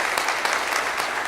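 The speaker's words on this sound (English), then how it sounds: "Let's have a round of applause for them." An audience at a brass concert applauds veterans in the crowd, a dense, loud, even roar of many hands clapping at once.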